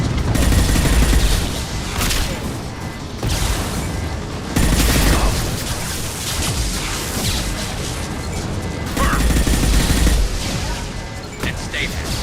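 Heavy weapons fire and gunfire in a Mass Effect 2 firefight, with loud bursts and crashing impacts that keep going and swell in waves, while voices speak over the battle.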